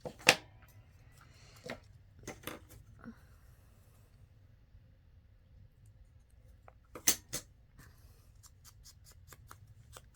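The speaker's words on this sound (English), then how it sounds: "use my little tiny corner punch just to barely round these corners" A small corner punch rounds paper corners for an envelope pocket craft, giving several crisp, sharp clicks: a cluster near the start, a pair a little later, and another close group near the end, with quiet pauses between.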